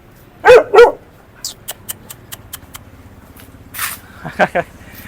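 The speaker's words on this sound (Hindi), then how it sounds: "तो भाई कुत्ते बहुत ही ज़्यादा खतरनाक है यार यहाँ पे" Dogs in a slum area of Hanoi, Vietnam bark loudly twice nearby, followed by scattered yips and short barks, with more barking later under someone talking.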